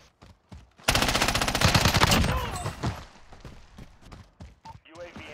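Rapid gunfire in the Warzone battle royale game, a dense burst lasting about two seconds followed by scattered single shots and clatter, loud and close, with brief speech-like sounds around it.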